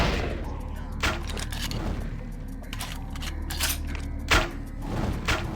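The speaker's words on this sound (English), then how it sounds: "Basically in a sniper duel here." In the video game Vampire: Bloodlines, sniper rifle shots crack in a sniper duel. A few sharp, booming reports stand out at irregular intervals over a constant droning game background.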